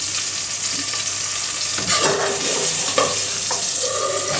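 Giant puffball and oyster mushrooms frying in a pan give off a steady, loud sizzle with occasional stirring scrapes and soft crackles, without any talk.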